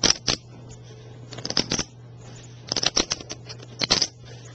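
Clay-style 14 gram poker chips being shuffled by hand, producing quick bursts of crisp clicking chip-on-chip clatter in short repeated clusters, close and fairly loud, with brief pauses between riffles and no voices.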